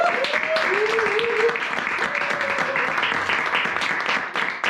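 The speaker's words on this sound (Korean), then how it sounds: "박수로 맞이해주십시오" An audience at a company seminar in Busan applauds steadily throughout, a dense wash of clapping with a voice heard over it near the start.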